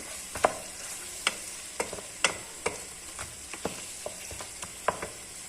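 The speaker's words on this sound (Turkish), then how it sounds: "kimyonumuzu ilave edip güzel karıştıralım arkadaşlar" A spoon stirs beef sauté with a pinch of cumin in a sizzling pan, making a dozen or so sharp scraping clicks at an uneven pace over a constant low fry.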